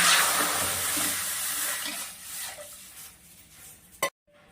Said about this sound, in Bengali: কড়াইতে জল দিয়ে দিলাম